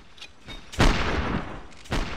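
Gunshots ring out in a US Civil War video game mod: one sharp, loud close report followed by a second shot about a second later, with faint distant pops before them.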